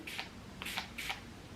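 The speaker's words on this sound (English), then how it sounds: "So what I do is I just spray this on." Three short, crisp hissing bursts from a spray bottle, evenly spaced and close by, with quiet in between.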